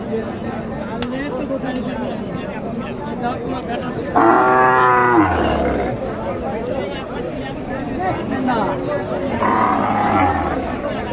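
Cattle moo loudly twice amid a busy cattle market in Naogaon district, Bangladesh, a long low bellow near the middle and another toward the end, over steady crowd chatter.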